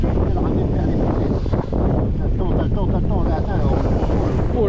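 Wind buffets the microphone steadily while fishing for trout and bass from a boat outdoors, a loud, continuous rumble with voices talking over it.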